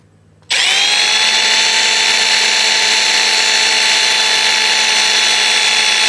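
A Milwaukee M12 Fuel Gen 3 brushless 12V impact driver at speed setting 1, about 1550 RPM, spins up sharply after a brief quiet moment and then holds a loud, steady, high-pitched motor whine close by.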